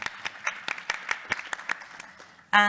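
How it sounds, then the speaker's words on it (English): A small group claps in loose, uneven bursts, fairly close and modest in volume, ending with a brief tonal sound. "Then we can also clap, yes."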